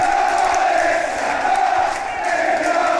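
Football crowd at a Barnet versus York City match chanting in unison, a loud, sustained, droning roar of many voices filling the ground.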